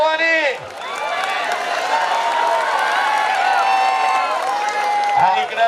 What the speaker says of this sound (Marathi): बाबू महाराजसाठी टाळ्या करा सर्वांनी